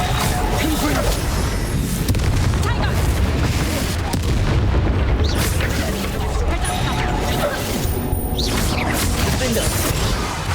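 Confringo fire blast spell explosions in Hogwarts Legacy, deep booms and crashing blasts layered over dense battle noise, with game voices shouting throughout.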